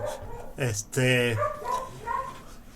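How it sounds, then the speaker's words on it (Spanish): A dog barks and yips near a classroom during a lesson, several close, loud barks in a short burst followed by softer yelps. "¿Molesta el perro?"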